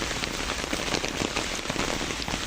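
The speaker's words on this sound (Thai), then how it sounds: "เดินท่ามกลางฝนดีว่าเอาร่มมาจ้ะ" Steady rain falls on surfaces around someone walking outdoors, a dense, even patter close by with no voices.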